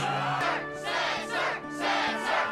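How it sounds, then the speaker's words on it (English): Kingdom Hearts 2 video game crowd at a Twilight Town Struggle title match cheering continuously in swelling waves, loud and dense with no talk over it. "Yes, the crowd is fired up, so you know what comes next."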